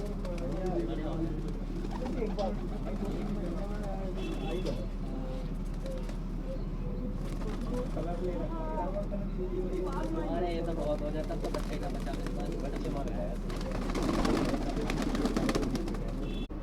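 Pigeons coo repeatedly in soft, throaty bursts on a rooftop while people talk nearby, with a steady low hum in the background.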